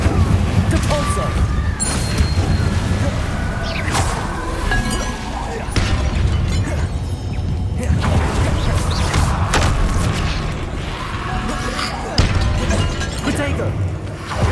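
Spell-casting combat in the video game Hogwarts Legacy: loud, dense, continuous booms, crashes and sharp impact bursts with clinks, layered over a busy game soundscape and voice-like sounds.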